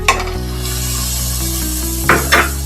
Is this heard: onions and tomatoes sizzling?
yes